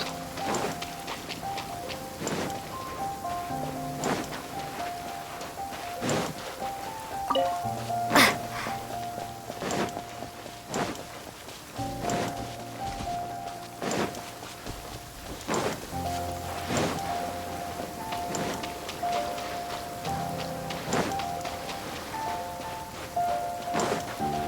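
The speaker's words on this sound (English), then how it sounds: "I kinda wish it wasn't raining all the time when I was playing this quest." Steady rain falls in the video game Genshin Impact, a continuous patter under soft game music tones, with sharp scattered clicks breaking through now and then.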